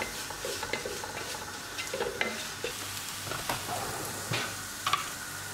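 Ginger, green chilli and garlic sauté and stir in a pan for a Kerala beef biryani, a steady close sizzle broken by frequent spatula scrapes and light taps against the pan, with no voices.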